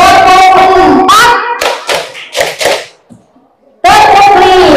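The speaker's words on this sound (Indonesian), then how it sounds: "Tepuk 4." Four sharp hand claps in a steady rhythm during a counting clapping game at a school staff start-of-year meeting, loud and close, with a voice speaking before and after the claps.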